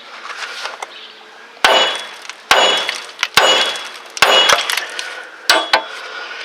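A hammer strikes the steel tie rod end on a Chevy S-10 front suspension, about eight sharp metallic clangs in irregular bursts, each ringing briefly before the next hit.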